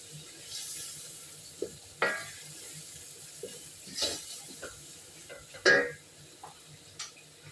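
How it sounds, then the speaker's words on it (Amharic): Chopped onions frying in a pan and being darkened, with drops of water splashed in to stop them burning; an uneven sizzle with sharp crackling bursts and clatter, moderately close. "እንዳይዝብን ውሃ ጠብ እያደረግን ነው የምንጠብሰው።"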